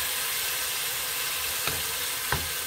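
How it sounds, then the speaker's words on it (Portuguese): Vegetables for shrimp bobó sautéing in a pan, a steady close sizzle and hiss of frying with two brief clinks of a utensil against the pan and no talking. "Nós vamos refogar isso aqui"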